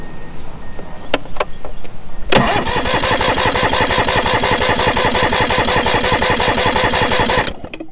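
An outboard motor cranks on its starter with a compression gauge fitted to the bottom cylinder, a loud, even, pulsing churn lasting about five seconds after a few clicks, then cutting off.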